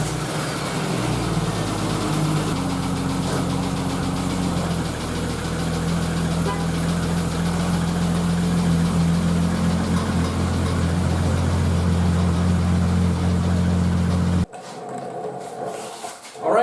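A Jeep Wrangler YJ engine runs steadily at idle after an 8.8 axle swap, a continuous low drone that holds for most of the stretch before cutting off abruptly near the end.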